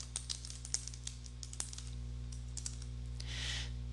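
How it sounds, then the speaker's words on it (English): Keys clacking on a computer keyboard while text is entered in a word processor, a steady run of close, light clicks with uneven rhythm over a faint background hum. "So if I keep typing,"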